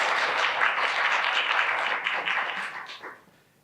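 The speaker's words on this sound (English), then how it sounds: "let's give Isaiah a round of applause" A crowd at a school district spelling bee final applauds a finalist, a full burst of clapping that holds steady, then thins and trails off.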